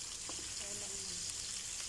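Onion sautéing in a pan as the first step of ginisang gulay, a vegetable dish with squash, bitter melon, okra, eggplant and shrimp paste: a soft, steady hiss of sizzling oil, with a faint voice briefly in the background.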